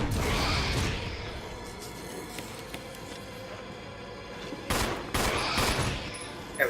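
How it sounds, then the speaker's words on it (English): A grenade blast and a couple of gunshots go off in the Resident Evil remake, with a loud burst at the start and sharp reports near the end, amid game background sounds and someone talking quietly. "One grenade, a couple shots."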